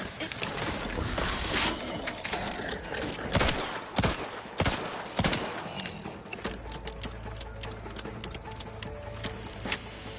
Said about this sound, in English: Was that a repeating carbine? Repeating rifle.